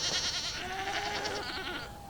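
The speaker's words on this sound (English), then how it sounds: "hopefully you can hear me over them goats a squalling" Several goats bleat and squall loudly and close by on a small farm in the evening, their overlapping wavering calls continuing without a break and fading slightly at the end.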